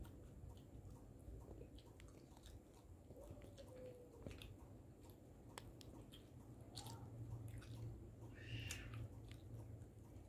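Someone bites into and chews a shawarma at a close distance, wet squishy mouth sounds and soft crunches scattered over a murmuring background with some faint talk.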